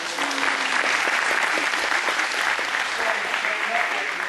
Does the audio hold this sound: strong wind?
no